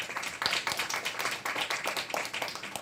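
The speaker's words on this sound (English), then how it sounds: "Please welcome with our applause." Audience applause welcoming Felix Wong, Managing Director of Beckhoff Automation, at a forum: steady, dense clapping from a crowd, fairly loud and continuous throughout.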